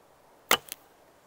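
An arrow is loosed from an Ottoman short Sipahi hybrid bow of about 50 pounds draw, giving one sharp snapping release followed by a quick lighter tick, close and otherwise quiet.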